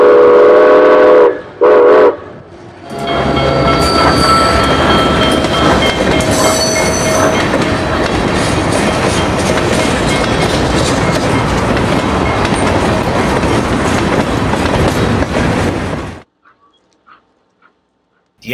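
Southern Pacific 2475 steam locomotive backing toward Cahill Street in San Jose on New Year's Day 1958, loud and close, with a steady roar of rolling wheels and clanking running gear and a short whistle, ending abruptly.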